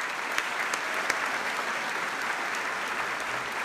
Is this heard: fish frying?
no